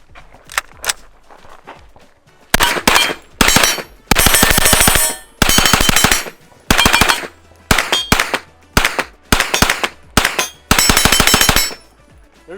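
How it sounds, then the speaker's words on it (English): A 9mm long-barrel gun fitted with a muzzle brake fires in fast strings of loud, sharp cracks at a shooting match, with bursts of rapid shots separated by short pauses. "I'm gonna rip a mag, and then Zach's gonna show me how fast you actually shoot these guns."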